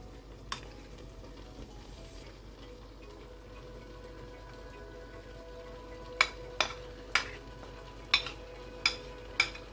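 Reserved onions go into a pan of frying Cameroonian-style beans, giving a low steady sizzle punctuated by a run of sharp clacks of a utensil against the pan near the end.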